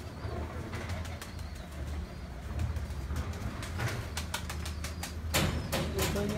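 Pigeons coo in a low continuous murmur while wings flap in sharp, repeated bursts, several close clatters toward the end, over a steady background rumble.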